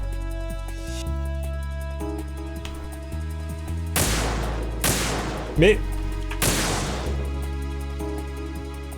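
Several sharp, booming gunshot bursts in Metal Gear Solid 2 ring out over a constant electronic hum, with a brief spoken word near the start.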